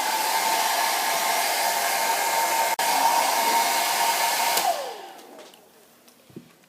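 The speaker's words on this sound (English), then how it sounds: "I want to dry it quicker than normally, so I use the thermal" Heat gun blowing hot air to dry a paper collage, a steady loud whirring rush that cuts off near the end, leaving a faint quiet tail with a small knock.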